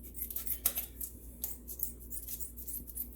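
Kitchen scissors snipping open a food package, a few sharp close cuts and crinkling plastic scattered over a quiet room, no talking.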